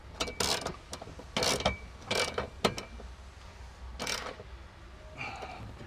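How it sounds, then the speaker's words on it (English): A 16mm socket ratchet tightens a bolt on a standalone storage shelf in a Toyota LandCruiser LC200, giving several close, bright bursts of clicking in uneven clusters with short pauses between them. "Grab your 16mm socket. Tighten the bottom there."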